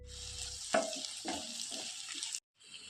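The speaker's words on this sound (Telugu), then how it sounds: "కట్ చేసి పెట్టుకున్న ఒక పెద్ద సైజు టమోటాని వేసుకొని ఒక రెండు నిమిషాల వరకు మగ్గనివ్వాలి" Chopped large tomato dropped into a pan of frying ginger-garlic paste, giving a steady close sizzle with a few stirring scrapes before it cuts off abruptly near the end.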